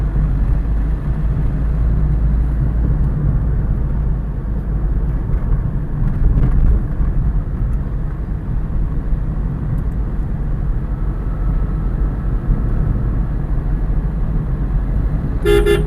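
Interior drone of a 2009 Maruti Swift Dzire diesel car on a long test drive, a loud steady low engine and road rumble with little change throughout.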